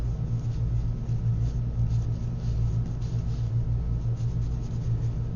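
Soft, continuous scratching of a pencil sketching barnacles on paper, close by, over a steady low mechanical hum.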